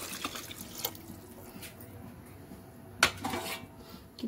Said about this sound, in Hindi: अभी हम पानी ऐड कर लेंगे।